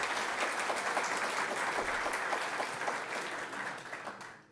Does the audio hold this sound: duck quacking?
no